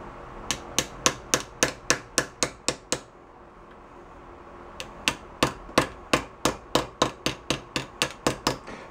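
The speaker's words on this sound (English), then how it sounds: "See if we can kind of beat on these a little bit." A piece of wood beats on parts of a 1972 Honda SL125 motorcycle during yard-sale repairs: about ten quick, sharp, evenly spaced knocks, a pause of roughly two seconds, then another run of about a dozen close, loud strikes.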